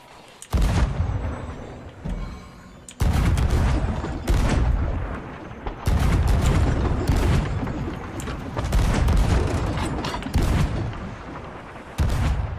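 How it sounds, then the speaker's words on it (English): Ship cannons fire chain shots during a naval battle in the video game Sea of Thieves, with loud, booming blasts going off in repeated bursts, several shots in quick succession, and short pauses between volleys. "Let's get some chain shots rocking and rolling."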